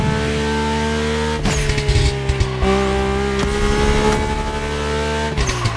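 Mercedes car racing in The Crew Motorfest, engine roaring close and loud with rising revs, sharp gear-shift drops, and tire squeals through the run.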